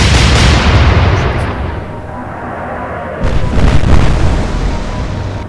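Naval guns firing in the Atlantic Fleet game, Royal Navy against Kriegsmarine: a loud deep boom rolling into a long rumbling decay, followed by a second heavy blast partway through.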